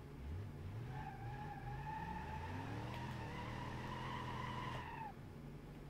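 Tires of a D-Series pickup slip and spin in BeamNG.drive, a continuous faint whine rising and holding steady over a low engine drone for several seconds before cutting off.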